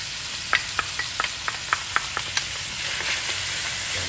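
Onion sizzles in pork lard with bacon, a steady frying hiss broken by a quick run of sharp stirring clicks from a utensil against the pan.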